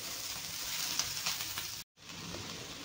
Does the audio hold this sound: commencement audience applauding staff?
no